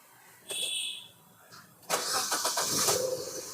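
A Maruti Suzuki Ertiga engine with a CNG fault (code P0134) cranks briefly, pauses, then starts on petrol and settles into a steady running rumble, recorded close by.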